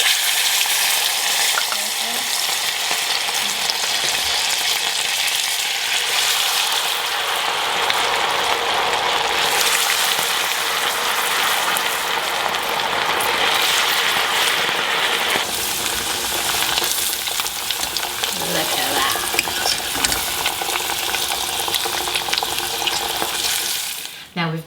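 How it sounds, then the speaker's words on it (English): Belly pork strips deep frying as a curry topping, a steady loud crackling sizzle of hot oil that runs on without a break, with some faint clatter and water-like noise mixed in. "Now we've deep fried our toppings"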